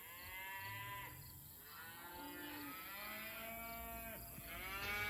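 Cattle in a field, a herd that includes young animals, moo repeatedly on a hot evening, with several long overlapping lowing calls close by against a steady outdoor background.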